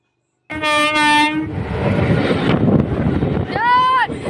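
A train moves along railway tracks with a sustained rumble of wagons, opening with a loud, steady horn blast and ending with a second, rising horn call, while a voice talks over the passing noise.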